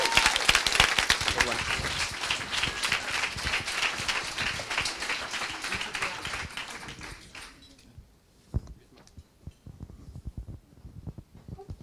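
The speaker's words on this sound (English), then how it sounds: "So a round of applause for Clicks." At a coding bootcamp demo day, an audience claps in a loud, dense burst that thins and fades after several seconds, leaving scattered individual claps and room noise.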